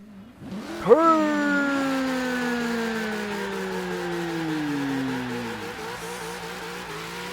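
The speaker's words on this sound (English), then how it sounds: "Guess I should finish this off with a big old smoky burnout, shouldn't I?" A Ford Falcon doing a smoky burnout in Forza Horizon 3: the engine snaps up to a loud, close roar, then holds a high, slowly sagging whine mixed with tire squeal for several seconds.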